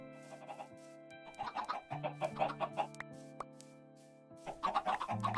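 Chickens in the video game Minecraft cluck in repeated short bursts over a steady background tone, with a few quiet gaps between flurries of calls.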